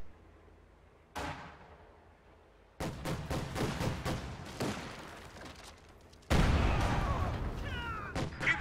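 A mine detonating under a Volksgrenadier infantry squad in a WWII real-time strategy game: a sudden loud blast that rolls into sustained battle noise with scattered gunfire and booms, and no voices.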